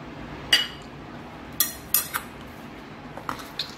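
Ghee added to warm modak dough in a bowl, marked by a few sharp, close clinks of a spoon against metal or glass, spaced irregularly over a quiet background.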